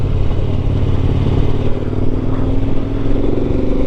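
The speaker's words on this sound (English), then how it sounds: "Revving the fuck out of it." Close, loud motorcycle engine revving hard through the gears, a dense mechanical roar with quick pulsing rises in pitch, heard alone without talk.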